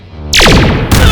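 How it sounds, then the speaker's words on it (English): A missile explosion in a Power Rangers Zeo audio drama hits with a sudden loud blast that throws up sand, then rumbles and crackles before a second burst near the end, all close and without any talk. "The resulting explosion sends sand into the air as all three go flying"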